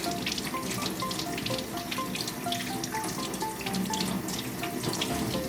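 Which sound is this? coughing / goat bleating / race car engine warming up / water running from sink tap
water running from sink tap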